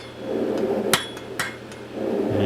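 A smith's hammer strikes hot tong stock on the corner of an anvil to smooth out a twist, giving two loud ringing blows with lighter taps between over a steady forge hum.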